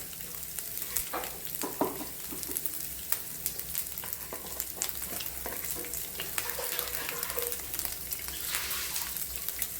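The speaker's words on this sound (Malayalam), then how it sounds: "ഈ തേങ്ങ നമുക്കൊരു ശകല ഉപ്പും കൂടിയിട്ട് മഞ്ഞൾപ്പൊടിയും കൂടിയിട്ട് വറുത്തെടുക്കാം" Grated coconut sizzles steadily in hot oil with turmeric and salt, a continuous close crackle broken by scattered louder pops and scraping stirs, with no voices.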